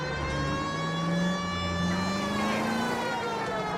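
Police car sirens wail in the video game L.A. Noire, loud and continuous, the rising and falling pitch sweeping back and forth with no talking.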